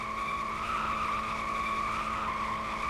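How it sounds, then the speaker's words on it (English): Tire squeal from an LMP2 race car doing a burnout against the wall at Sepang in a Roblox racing game, a steady high screech held continuously for a few seconds. "They put it against the wall, burn it against the wall as well."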